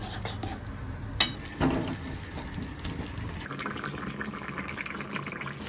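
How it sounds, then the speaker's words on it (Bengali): Eggplant fries in oil in a pan with a steady sizzle, with a sharp clink and a brief stirring scrape early on, the hiss continuing to the end. "এদিকে বেগুন ভাজা"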